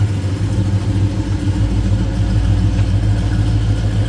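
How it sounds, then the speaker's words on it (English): A deep, loud 1970 Plymouth GTX V8 engine idles steadily with a rumbling, lopey low tone, close and continuous with no talking. "Slip around to the back so you can hear this run too."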